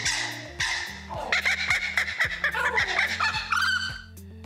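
A captive kookaburra at a wildlife park in Western Australia lets out its raucous laughing call, a loud, close series of cackling, chuckling bursts rising and falling for several seconds.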